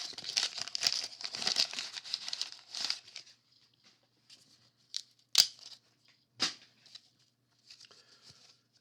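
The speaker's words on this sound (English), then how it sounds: "Go with the 1990 Bowman, looking for Frank Thomas rookie card here." A foil wrapper of 1990 Bowman baseball cards is torn open and crinkled, with several seconds of close, soft rustling followed by a few sharp crackles and faint shuffling of cards.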